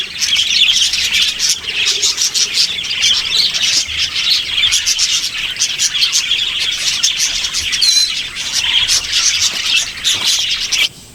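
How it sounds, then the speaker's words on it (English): Small pet birds at an animal rescue chirp and tweet in a busy, continuous chorus of rapid high calls, close and loud, with no talking. "I just love listening to their chirps and everything."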